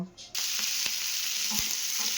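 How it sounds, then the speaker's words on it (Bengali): Chopped onion and capsicum hit hot oil with a sudden loud hiss, then sizzle steadily up close with a few stirring clinks, no talk. "ওই তেলে দিয়ে দেবো এই পেঁয়াজ কুচানো আর এদিকে ক্যাপসিকাম কুচিয়ে রেখেছি এইগুলো দিয়ে একটু ভাজা ভাজা করব।"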